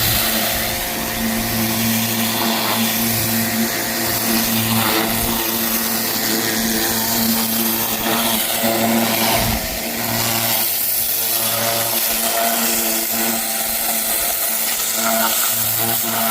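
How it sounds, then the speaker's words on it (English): Pressure washer spraying down a Geo Tracker parked on a trailer, a steady loud motorized hiss and drone running continuously up close, with a brief dip in the middle before it resumes. "I'm going to pressure wash the Trash Panda while it's on the trailer"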